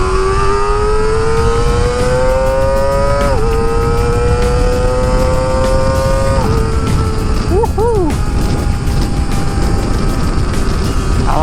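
A Kawasaki ZX25R motorcycle fitted with an Akrapovic exhaust revs loudly and continuously up close, its high-pitched engine whine climbing through the gears with quick drops at each up and down shift.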